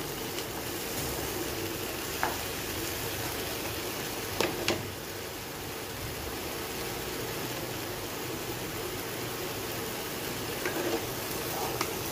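Vegetables sautéing in a pan, being stirred down until their raw smell cooks off before lentils and water go in: a steady, close, even sizzling hiss throughout, broken by a few sharp clicks of the spatula scraping the pan, with no talking.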